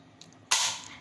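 A toy gun goes off once in a sharp, bright crack that fades over about half a second, preceded by a faint click, heard close up with no talk.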